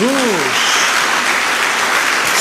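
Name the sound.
congregation applause for Jesus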